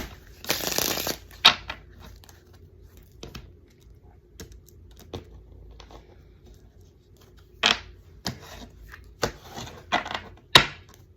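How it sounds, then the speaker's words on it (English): Playing cards are shuffled and dealt: a rippling riffle opens, followed by a series of sharp, separate snaps and flicks as cards are laid out close by. "So we are going to throw out some playing cards here."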